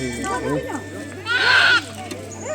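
A female goat bleats once, loud and wavering, near the middle, with people talking nearby before and around it, at Deopani temple.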